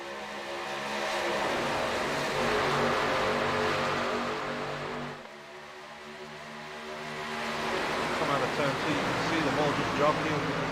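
NASCAR Cup Series cars roaring in a pack on the Daytona oval at the green flag of a playoff round-of-10 race, a loud sustained engine drone that dips briefly and then swells again, with race commentary talking over it.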